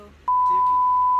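A steady, loud censor bleep tone starts abruptly a quarter second in and holds to the end, replacing speech in a casual storytime chat.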